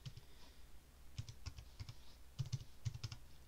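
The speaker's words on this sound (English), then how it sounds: "for the sake of completeness, we'll input the new password" Password typed on a computer keyboard, a handful of soft, quick key clicks in small irregular bursts, quiet and close with no talk.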